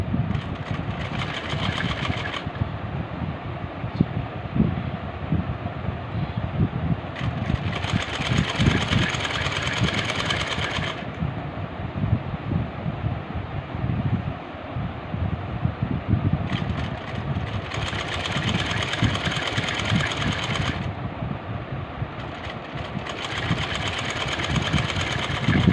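A sewing machine stitches lace onto frock fabric in bursts of a few seconds, its rapid mechanical whirring and clatter running fairly close over a steady motor hum, with brief pauses between runs.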